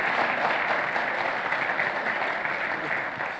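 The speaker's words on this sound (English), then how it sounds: "give him good round of applause before he starts the talk" A seated audience applauds to welcome a Ruby developer before his talk, a dense, steady wash of many hands clapping throughout, fairly loud and evenly sustained, with no voices standing out.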